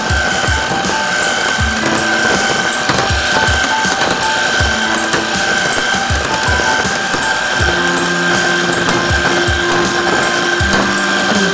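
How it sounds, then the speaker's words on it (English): An electric mixer blending an egg and blue cheese mixture makes a loud, steady mechanical whir with a rapid ratcheting rattle, continuous and close throughout. "gonna turn it up here and really get the blending going on"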